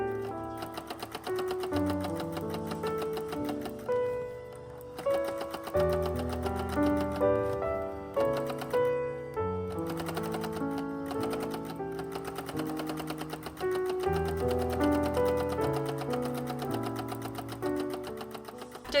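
A sewing machine stitches the sleeves of a gown, its steady mechanical chatter running in bursts with short pauses between runs, fairly loud and close, alongside what sounds like tonal background music.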